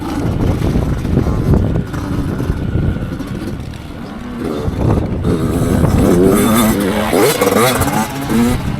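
A small 85cc motorcycle rides a purpose-made race course on a cold, windy winter day, its engine revving up and down through the laps, loud and fairly close throughout with no talk.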